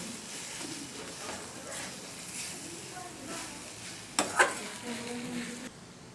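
A vegetable sandwich filling, salted, stirred in a pan: a low steady sizzle under repeated spatula scrapes and a couple of sharper clinks near the end, close by, with no voices.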